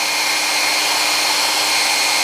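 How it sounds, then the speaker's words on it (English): A handheld hair dryer runs on its cold setting in a home kitchen. It gives a loud, steady, close-up whir and rush of air that holds constant with no pauses. "use the cold function on the hairdryer"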